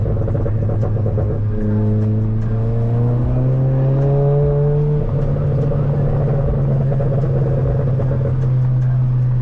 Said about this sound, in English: Pops are pretty nice too.